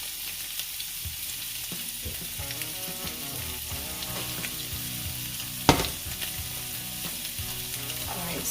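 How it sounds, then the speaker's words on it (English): Korma paste for a paneer and pumpkin korma curry sautéing in a pot, a steady close sizzle with light stirring and one sharp knock partway through, no one talking. "we have to saute our korma paste"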